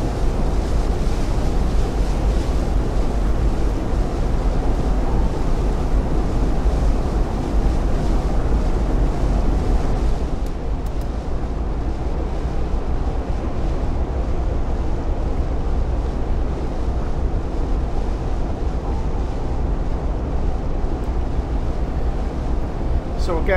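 Fishing trawler sailing through ocean waves in the game Fishing: North Atlantic: a steady, loud wash of surf and wind with a low engine rumble underneath, continuous throughout.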